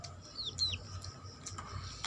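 Short, sharp bird calls, most likely a chicken, ring out in a quick pair near the start and recur faintly later, set against a low household hum with no voices.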